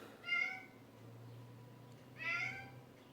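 Cat meowing to be let in, two faint, drawn-out meows a couple of seconds apart over a low steady hum in an otherwise quiet room.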